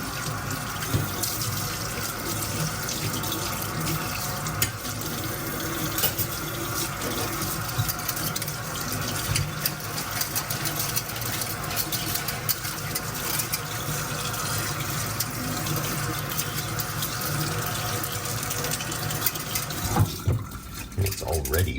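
A kitchen tap runs steadily while a sunflower greens growing tray is washed with soap and water, the broadband rush continuous and close for about twenty seconds before easing near the end, with faint background sounds.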